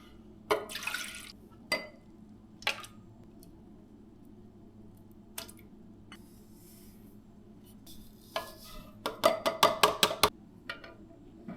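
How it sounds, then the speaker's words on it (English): Milk poured into a bread maker for giant cinnamon roll dough, heard as quiet splashing bursts and a quick run of liquid glugs and drips near the end, with mostly hushed gaps between. "All right, so the milk is going in first."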